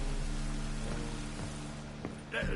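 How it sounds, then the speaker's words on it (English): Steady rainfall in the Witcher 3 game world, a constant hiss with a few soft patters and a low background rumble, ending with a brief tonal sound. "Looks like rain."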